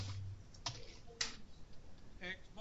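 Someone types on a computer keyboard while entering statistics formulas, producing faint, sparse clicks and a few key taps spread over a few seconds in a quiet room.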